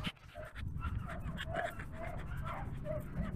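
Beagle whimpering and giving short yips close by, several high whines in an uneven run over steady background noise.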